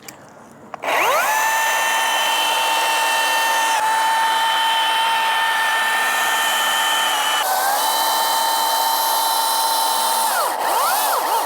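A chainsaw runs loud and steady at high revs while cutting into a giant tree, with a brief idle dip at the start and another near the end. No one speaks over the whine.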